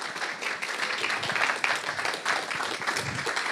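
An audience at a conference applauds, a dense, continuous patter of many hands clapping at once that stays steady through the short stretch.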